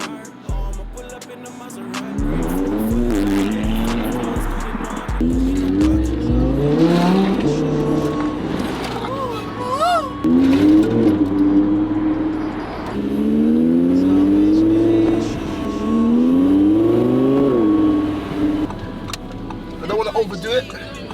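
A wrecked, previously stolen 2018 Audi R8 V10 Plus revs hard while driving, its engine note sweeping up and down through repeated loud, close throttle surges for about twenty seconds, with a voice occasionally heard over it.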